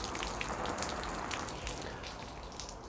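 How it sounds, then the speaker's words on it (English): Steady patter of a light artificial rain shower falling on an old jacket sleeve in a back garden, a continuous close hiss of fine droplets with no talk. "On that sleeve with just a fairly light shower of rain."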